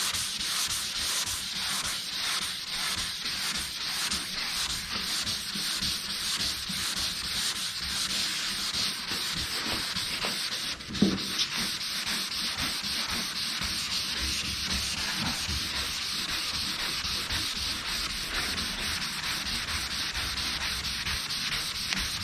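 Continuous close-up sanding, a steady rough hiss of abrasive rubbing back and forth with one brief knock partway through.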